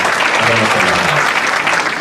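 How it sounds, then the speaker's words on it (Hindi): At a mushaira in an air-conditioned hall at Jamia Millia Islamia, the audience applauds loudly to welcome the local MLA, a dense, steady wash of clapping while a voice briefly speaks over it. "आप सब तालियों से उनका इस्तकबाल कीजिए"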